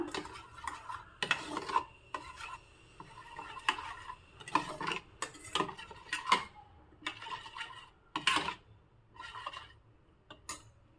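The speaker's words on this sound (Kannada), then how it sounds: "ಇದೆಲ್ಲವನ್ನು ಚೆನ್ನಾಗಿ ಮಿಕ್ಸ್ ಮಾಡ್ಕೋಬೇಕು" Yogurt with salt and cumin powder being mixed with a spoon in a bowl, a series of close, quiet scraping and clinking strokes in uneven bursts with short pauses between them, no voices.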